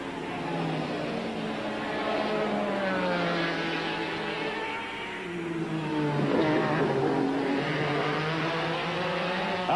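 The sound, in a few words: Kudzu prototype race cars racing at Lime Rock, IMSA Camel GTP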